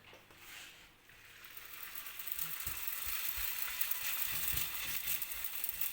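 Msemen flatbread sizzling in a few drops of oil in a pan, a soft hiss that starts quiet and swells into a steady, louder frying crackle with no talking.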